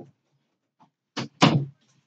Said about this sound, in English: Okay, I shut the door.